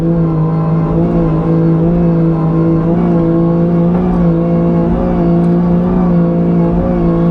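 BMW E36 drift car at Long Beach, its engine holding a loud, steady, droning tone close by for the whole stretch, with no talking over it.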